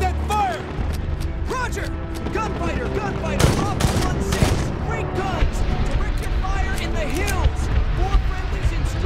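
Heavy gunship gunfire in the Medal of Honor video game, dense rolling bursts and booms under radio-style voice chatter, with a louder cluster of impacts midway.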